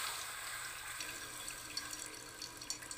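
A small amount of water is splashed into climbing perch curry with tomatoes as it is fried down, a quiet continuous pouring and sizzling sound with a few soft bumps, no talk.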